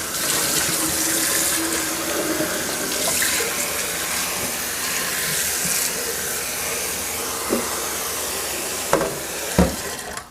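Cold water runs steadily from a kitchen tap into a sink while meat soup is being cooked, a continuous close hiss with a few clunks near the end.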